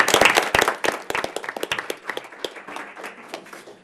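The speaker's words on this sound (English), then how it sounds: "let's give them one more round of applause" Scattered hand clapping from a modest audience at a Royal Oak city commission meeting, starting dense and tapering off over a few seconds, with no speech over it.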